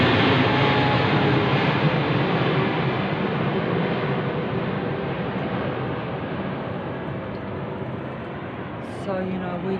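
Aeroplane flying overhead at night, a loud, steady broadband roar that fades slowly over several seconds.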